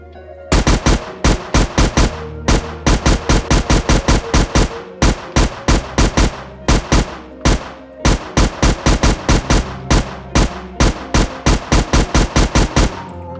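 Automatic machine gun fire with unlimited ammo in a Unity 3D game, loud rapid bursts of repeated shots in a steady rhythm lasting throughout, with no talking over it.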